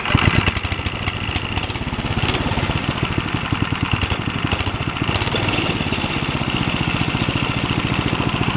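A hybrid trike's small engine, started and run under Arduino control, chugs steadily and loudly with a rapid pulsing idle throughout, no talking over it.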